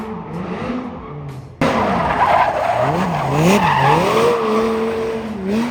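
A twin-turbo E92 BMW M3 with over 850 horsepower drifts through an alley, its tires squealing in long wavering howls over a loud engine note, near and continuous with no talk.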